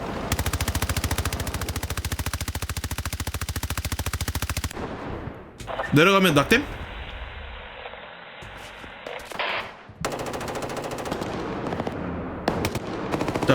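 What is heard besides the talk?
gunfire in Roblox shooter game DEADLINE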